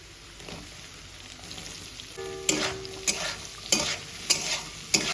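Capsicum goes into hot oil in a kadai for fried rice. A soft background hiss swells into a louder sizzle, then regular spatula scrapes follow about every half second, close and clear, with no talking.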